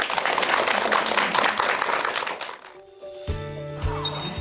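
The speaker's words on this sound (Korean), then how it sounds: "큰 박수 부탁드립니다." A studio audience at a Korean talk show applauds with dense, steady clapping for about two and a half seconds, then the clapping fades and sustained musical tones take over.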